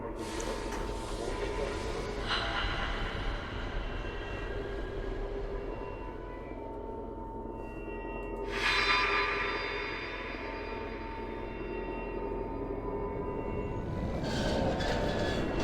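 A train in motion rumbles steadily from inside or atop a railcar, with a constant low roar, rattling and squeals, and brief louder metallic surges; no talking is heard.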